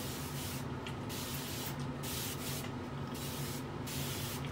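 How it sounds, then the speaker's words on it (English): A spray bottle mists a chamomile ginger spray onto short natural hair in several quick bursts, each a short airy hiss, roughly one per second, close up over a steady background hum. "I'm going to use my chamomile ginger spray just to add some more moisture back."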